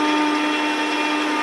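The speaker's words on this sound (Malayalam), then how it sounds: "ഇനി നമുക്ക് മിക്സിയുടെ ജാർ അടച്ച് നന്നായിട്ട് അരച്ചെടുക്കാം" A mixer grinder blends mango puree with water, a loud, steady motor whine with a constant pitch running without pause, then cutting off abruptly at the end.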